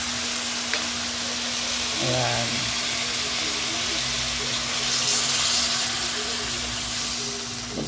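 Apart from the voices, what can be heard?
water poured into pan of sautéing vegetables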